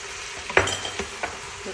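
Tomato is stirred into lamb in a hot frying pan, a soft steady sizzle broken by a few sharp scrapes and clinks of the spoon, close up.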